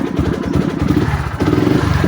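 A Honda Sniper 150 motorcycle engine starts and runs with a steady, rough mid-pitched idle and some mechanical clatter, loud and close throughout, with no talking.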